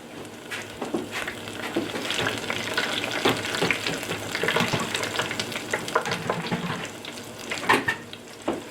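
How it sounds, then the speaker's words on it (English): Steady, busy sizzling and bubbling of onion rings deep frying in hot oil in a fryer, close and fairly loud, with occasional sharper crackles and pops. "that's a good sound my fryer's making"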